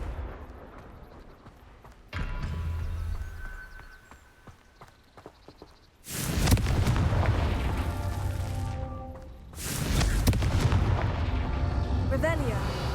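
A Confringo blasting spell in Hogwarts Legacy, loud booming explosions that burst in and rumble out over a game soundtrack, two big blasts in the second half.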